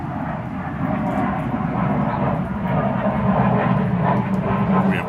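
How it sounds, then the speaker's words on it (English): Airplanes flying low overhead make a steady, loud, low roar that holds without a break for several seconds. No one speaks over it. "Planes are flying low."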